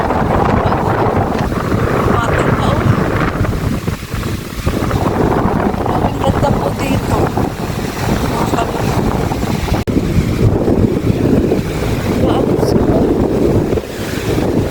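Strong wind buffeting the microphone over a churning, raging sea during a typhoon, a loud continuous roar of surf and gusts with someone speaking over it.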